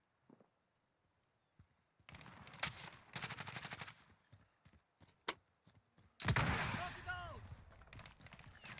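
MP5 submachine gun fire in Call of Duty Warzone, Cold War era, comes in several rapid bursts of close, loud shots separated by quieter gaps, with a player's voice talking between them.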